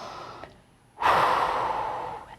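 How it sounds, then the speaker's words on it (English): One deep breath close to the microphone: a soft, brief intake, then a long, breathy, audible exhale that gradually tapers off, with no talking. "take a deep breath"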